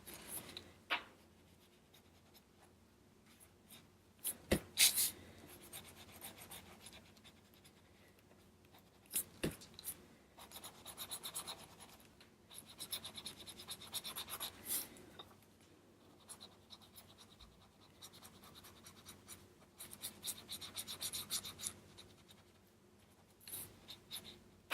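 Colored pencil shading on paper for a mixed media garden scene, quiet scratchy strokes in irregular bursts, rubbing back and forth close up with pauses between passes.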